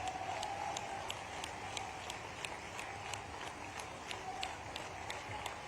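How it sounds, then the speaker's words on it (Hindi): An audience at a chief minister's public event in Shujalpur claps in a fast, regular rhythm, the steady crisp patter running throughout the clip, moderately distant and even in loudness. "आप जोरदार ताली बजाओ तो आपकी बात पे विचार करता हूं।"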